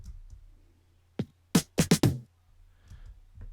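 Layered drum fills from the stems of a song: a soft hit followed by a quick cluster of four tight, punchy drum strikes, then near silence with faint low rumble.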